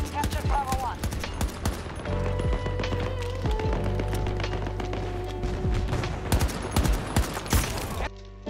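Burst gunfire in the video game Battlefield 2042, with weapons such as the AK-24, SFAR and PKP. Rapid clusters of sharp shots repeat close and loud across the whole stretch.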